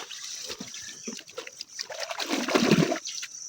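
Harvested celery is sloshed and rinsed in water, with splashing and trickling that builds into a fuller swirl of churning liquid near the end, close by.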